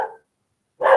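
A dog gives two sharp barks, the first brief, then a gap, then a louder, fuller bark close to the microphone, heard on its own without talk.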